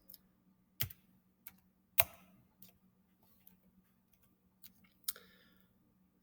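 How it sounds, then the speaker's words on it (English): Numbers are typed on a computer keyboard in a quiet room: sparse, separate clicks of key presses spread unevenly, close and fairly faint, over a low steady hum. "Now I'm going to type in all the Y's."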